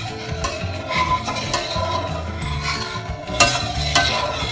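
Butter melting in a pan on the stove for Anzac biscuits is stirred steadily, giving a close, continuous scraping swirl with a light sizzle and occasional utensil knocks; nobody speaks.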